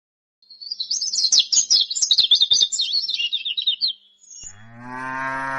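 Birds in a forest chirp in a quick run of bright, high twittering notes, close and clear, followed by a brief lower moo-like call at the end.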